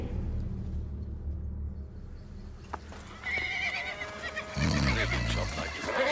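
Horses neigh in a dramatized period scene: a loud whinny rings out partway through, followed by more shrill neighs and stamping, over a low rumbling background.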